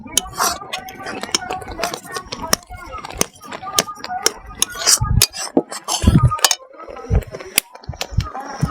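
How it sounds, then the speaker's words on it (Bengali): A spoon stirs a spoonful of butter into a homemade ice cream mixture, giving repeated close clinks and scrapes against the bowl in an irregular rhythm, with soft low thumps between strokes. "এই 1 চামচ বাটারটা দেওয়ার পরে এই বাটারটা কিন্তু খুব ভালোভাবে মিশিয়ে নিতে হবে।"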